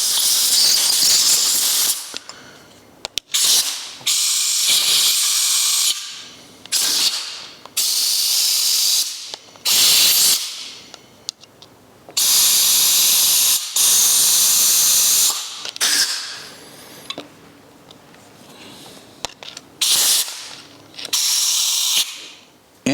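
Short and long bursts of compressed air from a spray can hiss sharply through the jet holes of an old Solex carburettor, each blast loud and close, separated by brief quiet pauses.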